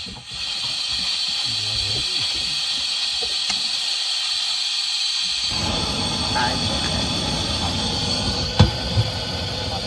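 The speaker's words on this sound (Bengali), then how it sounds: "এখন ওই খয়রা মাছগুলোই ভেজে নেবো।" Khoira fish fry in hot oil in a wok, giving a steady, close, broadband sizzling hiss that carries on throughout, with a couple of brief sharp clicks near the end.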